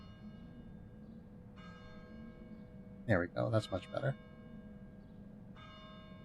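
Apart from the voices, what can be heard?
bell tower bell ringing in Getting Over It video game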